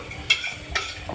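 Hyderabadi aloo baingan curry being stirred in a pan, two quick scraping strokes over a low sizzle.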